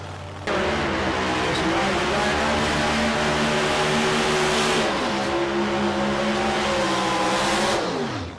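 Two drag racing cars, an orange Challenger and an orange Cuda, do a burnout together, their engines roaring loud and sustained with rising and falling pitch and tire noise for several seconds before easing off near the end.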